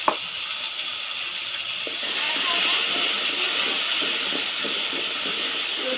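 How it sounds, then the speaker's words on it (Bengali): Garlic paste hitting hot oil, a sudden steady hissing sizzle that swells after about two seconds and carries on, close by, with a faint voice underneath. "দেখেন, রসুন বাটা দিয়ে দিচ্ছি।"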